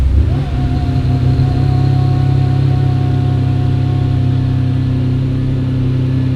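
A Ferrari 575M engine fires up and settles into a loud, steady idle close by, its deep exhaust drone holding evenly with a faint whine on top.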